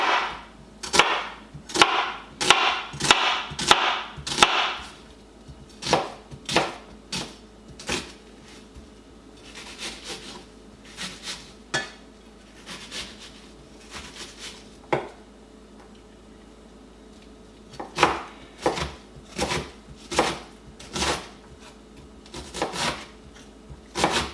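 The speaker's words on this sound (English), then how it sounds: "And we're gonna cut this into very thin slices or little tiny squares." A knife slicing a purple onion into thin pieces on a cutting board, sharp close chops coming in quick bursts of rapid strokes with short pauses between runs.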